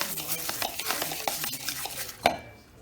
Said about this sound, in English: Then you want to mix up the butter with the topping a little bit,